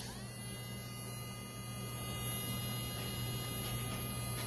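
A Casfuy two-speed electric dog nail grinder on its slow setting gives off a faint, steady motor hum and buzz, continuous and even throughout with no talking.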